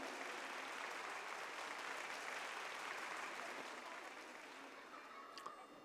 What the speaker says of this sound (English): Let's motivate them with a huge round of applause.